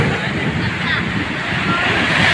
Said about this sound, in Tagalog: Ayan, ang alon.